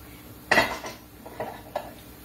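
Red peppers stirred in a pan beside browning rice, with one clear utensil scrape and clank followed by two lighter knocks against the pan, close and without talk.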